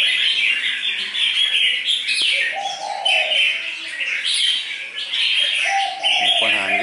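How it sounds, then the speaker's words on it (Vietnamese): Several tame red-whiskered bulbuls sing together at close range, a busy run of bright warbling phrases and chirps overlapping continuously, with a couple of lower cooing notes mixed in. "nhà nó nhiều chim thuần quá, nó hót, nó loạn hết lên"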